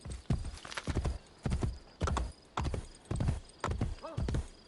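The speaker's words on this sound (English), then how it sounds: "I need a horse, don't I? Ideally. Let's call it a horse. Here he comes." Horse hooves clip-clopping in a steady galloping rhythm in the video game Assassin's Creed Brotherhood, with a whinny near the end; the hoofbeats are loud and close.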